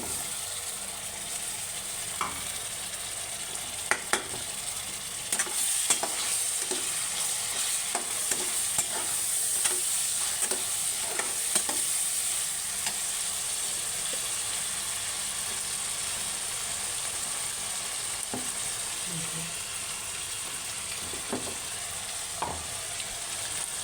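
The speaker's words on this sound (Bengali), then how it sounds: "মশলাটা একটু ভাজা ভাজা হোক" Ginger-garlic paste, cumin and spices fry in a pan for a beef and lentil curry, a steady close sizzle with repeated stirring clinks and scrapes throughout, no voices.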